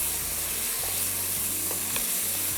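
Chicken pieces fry with garlic over high heat, a loud, dense, continuous sizzle with faint stirring scrapes, close up and without talk.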